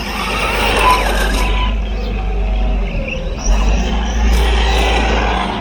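An Arrma Vorteks RC car fitted with a 48 DP module drives and brakes hard, its motor almost silent, leaving a steady close rush and scrub of tyres with occasional squeals.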